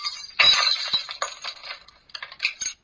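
Glass and hard objects such as a clock, a picture and a toy train being smashed, giving a burst of sharp crashing and clinking followed by scattered smaller breaks and tinkles, fairly close.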